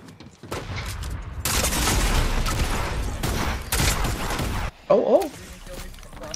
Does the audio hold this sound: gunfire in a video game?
yes